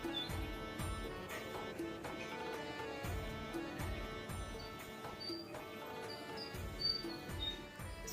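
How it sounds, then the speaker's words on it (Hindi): Asian koel calling in the early morning, with repeated faint, distant bird calls over a dense wash of other bird chirps and background noise, and no talking. "सुबह सुबह ना जो कोयल बोलती है ना, तो आवाज़ बहुत ही अच्छी लगती है।"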